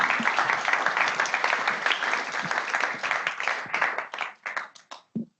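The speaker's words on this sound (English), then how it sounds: "So another round of applause for Zendesk and Pendo for hosting" Applause from a small crowd at a customer success meetup, sustained clapping that thins into scattered individual claps and fades out near the end.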